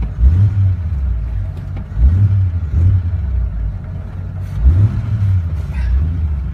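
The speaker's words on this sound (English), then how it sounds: "We're keeping our RPMs up." An old manual car with a three-on-the-tree column shift revs its engine in repeated rising surges, four or five pulses over a steady low idle rumble, close and loud with no talk.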